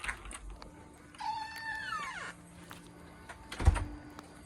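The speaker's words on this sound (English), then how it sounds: "did you see that other cat?" A cat meows in a short drawn-out, rising and falling call at close range, with a few thumps and a sharp knock near the end in a quiet room.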